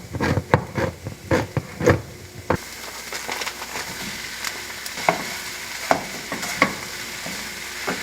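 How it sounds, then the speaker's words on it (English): Onions cook in olive oil in a pan. Loud stirring clatters come first, then a steady, close sizzle continues with occasional scrapes. "While the onions cook, let's crack open these beans."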